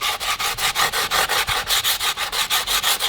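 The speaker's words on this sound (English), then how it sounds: "You see how I'm rocking and rolling my sanding block." Rhythmic sanding strokes with a sanding block on a carbon fiber blade, a steady back-and-forth scrape repeating about every quarter second, close and fairly loud.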